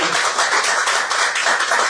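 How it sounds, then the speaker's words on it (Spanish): Church congregation clapping together during a Spanish-language sermon, a dense, steady wash of many hands that stays loud and continuous throughout. "Denle un fuerte aplauso al Señor"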